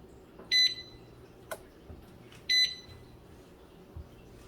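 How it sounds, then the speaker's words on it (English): A Presto electric digital canner gives two short, bright electronic beeps about two seconds apart while it warms canning jars for chicken thighs. The beeps are fairly clear above a quiet kitchen background. "that beep lets me know that my jars are warm"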